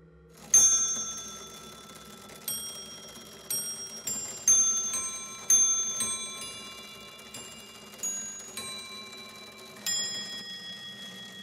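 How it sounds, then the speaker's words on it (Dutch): A centuries-old Jacquemart automaton clock chimes with a series of bright metallic bell strikes spaced a second or two apart, each ringing out briefly over a soft mechanical background. "Deze klok, een Jacquemart, is al haast 500 jaar oud."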